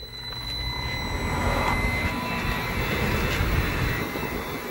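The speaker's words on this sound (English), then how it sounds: "Three-phase compressor. Running on single-phase input from my house." A three-phase compressor in a split-system air conditioner, driven by a variable frequency drive from single-phase house power, runs with a steady, broad mechanical hum and whine that swells slightly and holds.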